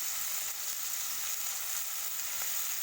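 Fish fries gently in oil in a kadai over lowered heat, a soft even hiss that holds steady and fairly quiet throughout, a few faint pops, no talk.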